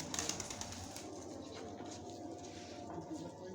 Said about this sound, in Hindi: पकड़े भी नहीं जा रहे इतने माशाल्लाह तेज़ कबूतर हैं